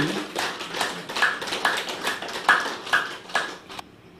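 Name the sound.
audience clapping loudly together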